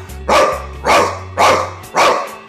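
A man imitates a dog with his voice, giving four loud, evenly spaced barks about half a second apart, each a short harsh burst with a low hum running between them.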